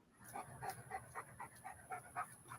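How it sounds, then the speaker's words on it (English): A dog pants in quick, steady rhythmic breaths, faint and close, with no one talking over it. "Either that's the dog breathing"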